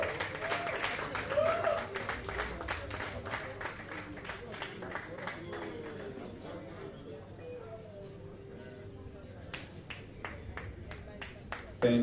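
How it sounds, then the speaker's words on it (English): Quiet, scattered clapping from a convention audience honouring JCI Continental Lagos's Executive Vice President-elect, with sharp individual claps fading gradually and talk underneath. "A round of applause for her"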